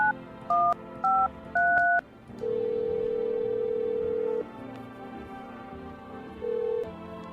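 Phone connecting tones in a video game, a quick run of dialing beeps followed by a long steady tone, a pause, then a shorter repeat, with no talk.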